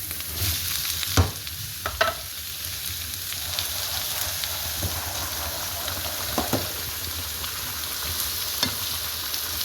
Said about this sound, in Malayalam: ഒന്ന് ഒരു മീഡിയം ഫ്ലെയിമിൽ വെച്ചിട്ടാണ് കേട്ടോ അത് വഴറ്റിക്കൊണ്ടിരിക്കുന്നത്.